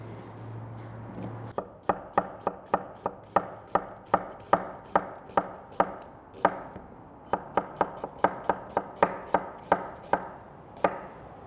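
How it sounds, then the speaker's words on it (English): A knife chops steadily through an onion on a cutting board, about two dozen crisp, evenly spaced strikes that sound close and clear, with no talking. A low hum is heard at the start. "we'll slice this nice and thin"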